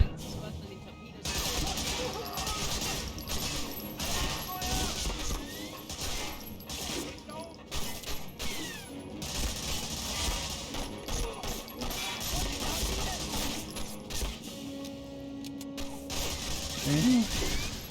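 Rapid bursts of gunfire in the PlayStation 2 game Medal of Honor: Frontline crackle and rattle almost nonstop, mixed with mechanical clicks and effects, fairly quiet overall.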